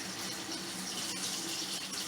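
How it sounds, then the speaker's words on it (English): Lukewarm tap water running steadily into a kitchen sink while an orange is rinsed under it, a soft continuous splashing stream with no voices. "rub the orange really good and wash it, make sure that it's clean"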